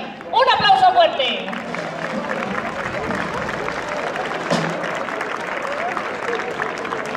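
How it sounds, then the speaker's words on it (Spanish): Audience applause at a traditional music school's gathering of dulzaina players in León, a steady crowd clapping that swells at the start then holds for several seconds, with a voice briefly over it near the beginning. "Un aplauso fuerte."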